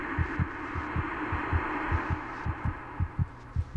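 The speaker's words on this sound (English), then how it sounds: "See, look, his heartbeat is racing!" In the horror game Among the Sleep, a racing heartbeat thumps in quick, regular double beats over a low, steady ambient hum, close and prominent with no voices.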